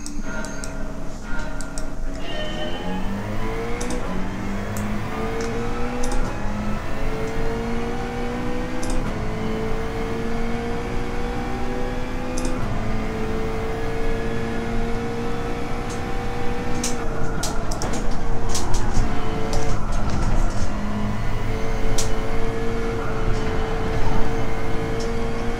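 A McLaren race car in Gran Turismo 7 runs a race, the engine note climbing steadily through gears with repeated shifts, a continuous loud drone alongside other cars.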